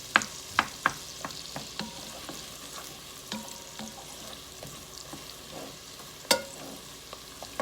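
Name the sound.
vegetables sauteing in a pot for broccoli cheese soup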